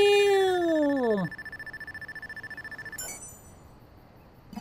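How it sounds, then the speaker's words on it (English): A phone rings in the video game Watch Dogs 2, a bright electronic tone that sweeps down and then holds steady for about a second before cutting off. A few short clicks and rapid ticking follow, with no voices. "Damn. Phone call."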